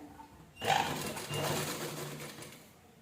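A sewing machine starts up and runs a short burst of stitching on cloth, a steady mechanical whir close by that winds down after a couple of seconds.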